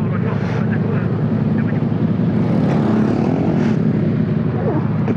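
A motorcycle engine idles and runs with a steady, loud mechanical drone along a road on a ride toward Pattaya, while people talk over it.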